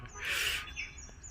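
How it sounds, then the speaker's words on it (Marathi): A bird lets out one bright, loud chirping burst in a Konkan mango orchard, close by, then fainter calls trail off against low outdoor rumble. "असा पक्ष्यांचं किलबिलाट बघाय बघा"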